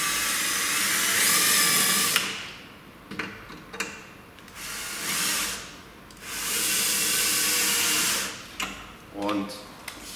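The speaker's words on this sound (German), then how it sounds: "Und jetzt bohren wir die komplett auf." Power drill boring out the sheet metal of a car door on a Dacia Sandero Stepway II, in bursts of steady whining with pauses and short clicks between them.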